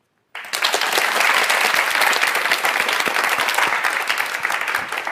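After a special lecture by the president of Dongju College, a large audience bursts into loud, sustained applause that starts abruptly and holds steady for several seconds.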